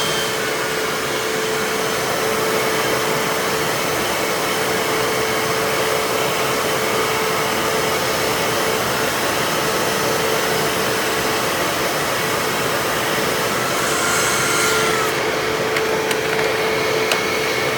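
A Hoover WindTunnel bagless self-propelled upright vacuum cleaner with a turbo tool and weak suction drones loudly and continuously with a steady whine, its motor running without pause throughout.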